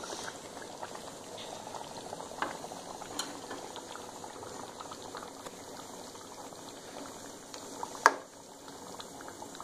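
Fish curry simmers in its broth in a covered pot over low heat, giving a soft, steady bubbling and light pattering throughout, with one brief click near the end.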